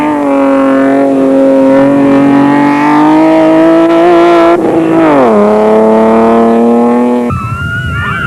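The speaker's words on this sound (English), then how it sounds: "the Land Rover still sounding healthy" A Land Rover in an off-road rally revs hard with a loud, close engine note that climbs steadily, dips briefly after a gear change, then climbs again before fading into rougher noise near the end.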